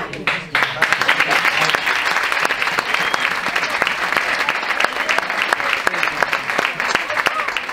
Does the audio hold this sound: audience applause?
yes